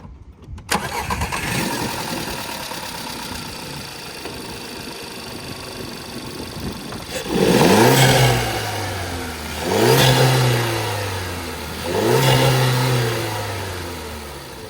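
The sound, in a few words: car engine starting and revving with recirculation valve mod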